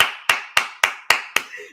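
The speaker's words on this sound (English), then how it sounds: "Jason Garrett clap." Six sharp, evenly spaced hand claps ring out close and loud in a quick steady rhythm, each with a short echoing tail, in the style of former Dallas Cowboys coach Jason Garrett.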